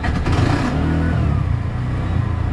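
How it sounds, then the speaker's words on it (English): A tuk-tuk engine idling in neutral with a light blip of the throttle, a steady loud mid-pitched putter and clatter running throughout with no speech. "Give it just a little bit of rev when you turn it on."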